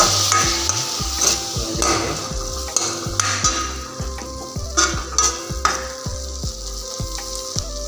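A spice paste being stirred and fried in a pot for a local chicken curry: a loud, close sizzle with rhythmic scraping and clacking of a ladle against the pot, repeated steadily.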